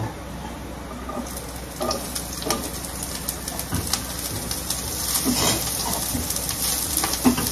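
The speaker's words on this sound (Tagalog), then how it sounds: "Igigisa na natin ang sibuyas at bawang." Onion and garlic sautéing in a pan, a steady close sizzle with occasional stirring scrapes, with bird cooing in the background throughout.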